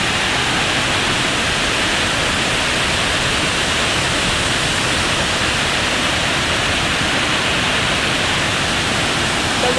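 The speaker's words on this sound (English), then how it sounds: "I'm in the middle of the forest with a beautiful natural waterfall" A powerful natural waterfall deep in the forest of Taravati Wildlife Sanctuary, its fast-gushing water making a loud, steady broadband roar that holds constant and unbroken throughout.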